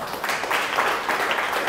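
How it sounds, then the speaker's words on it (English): Brief burst of audience clapping at a talk event, a moderate wash of scattered hand claps lasting under two seconds. "And that's when you guys clap."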